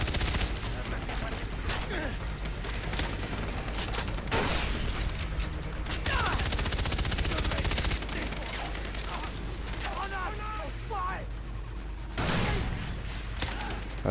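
Machine gun fire rattles in bursts in the Far Cry 3 video game, loud repeated volleys with booming shots between them and some voice chatter.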